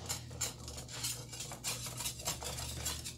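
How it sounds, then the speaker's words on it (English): A whisk beating chocolate in a bowl for a rich chocolate pie, rapid rhythmic metallic scraping and clicking strokes, close and steady. "We also want to add our 8 ounces of chocolate. And we're going to whisk."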